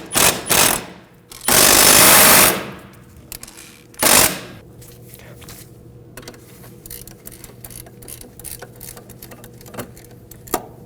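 Removing a 17mm lower caliper bracket bolt on a 1993-2001 Subaru Impreza during a front brake caliper replacement: two loud, close broadband bursts and a short third one, then quieter scattered clicks and metallic handling noise.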